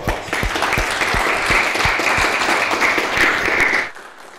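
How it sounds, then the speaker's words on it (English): Audience applause fills a lecture hall after a talk on building information modeling, steady dense clapping at close range for about four seconds before cutting off abruptly. "Let's give him a round of applause."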